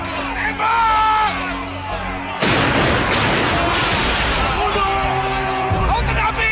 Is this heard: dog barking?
no